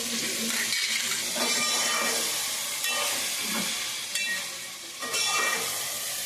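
Ivy gourd (dondakaya) frying in an open, uncovered pan in a village-style home kitchen, with a steady dense sizzle and intermittent scraping stirs of a spatula every second or so, close and continuous with no talking.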